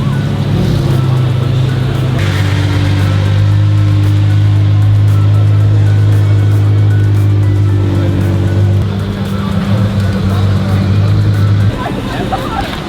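A right-hand-drive Mercedes-AMG Black Series supercar drones steadily up close, with a strong low engine tone that swells and holds for several seconds. People talk nearby throughout.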